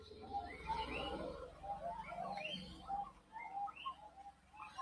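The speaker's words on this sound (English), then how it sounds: "I suspect they may be the common bronzewing that's making all that noise." Common bronzewing pigeons calling inside a free-flight aviary at an Australian marsupial park, amid a busy mix of faint chirps and short tweeting calls over a low background hum.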